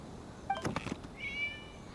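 A single short meow from a video game cat rises above quiet background, followed by a thin, drawn-out tonal whine; fairly faint overall.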